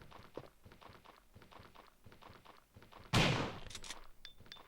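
A single loud shotgun blast in the 1996 video game Resident Evil booms out sharply after a stretch of soft rhythmic footsteps, then rings briefly as it decays.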